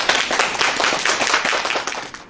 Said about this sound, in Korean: 테너 선생님을 큰 박수로 한번 모시도록 하겠습니다.